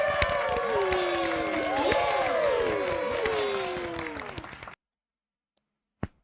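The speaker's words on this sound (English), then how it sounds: "Can I just give a round of applause" A small crowd at a university fighting game club gives a round of applause, mixed with loud whoops and cheers for several seconds before cutting off abruptly, followed by one short sharp sound.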